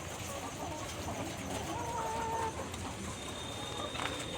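Laying hens in a large poultry farm shed, a steady dense background of clucking and bird calls with a brief higher squawk, continuous and moderately loud throughout.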